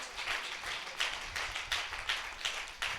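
A church congregation claps together in praise during a Hindi sermon, a dense, steady patter of many hands with several swelling surges, fairly loud and without talk over it.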